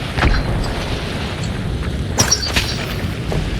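Deep, rumbling booms from game explosions roll through a busy mix, with a few sharp bursts and crackles standing out over continuous low-end noise.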